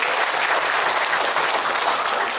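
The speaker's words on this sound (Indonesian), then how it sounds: "Tepuk tangan untuk Bapak Ibu semua." A dense, steady wash of audience applause fills a motivational speaking competition hall, many hands clapping together at a constant, loud level with no voices over it.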